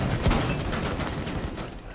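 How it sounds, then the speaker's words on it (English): Rapid gunfire in Rainbow Six Siege, dense overlapping shots and bursts from several directions, loud and close for about two seconds. "Oh, I'm getting shot at by everywhere."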